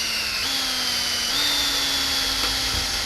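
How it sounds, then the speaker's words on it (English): Power drill boring holes for silver Clecos during a Jabiru engine installation, a steady high whine with small pitch steps as the bit bites, close and loud throughout. "go ahead and drill a hole in there"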